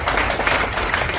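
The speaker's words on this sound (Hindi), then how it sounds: "जोरदार तालियां बजाएं सर" An audience at a gathering claps enthusiastically. The clapping is dense and continuous across the short moment, with no voices standing out.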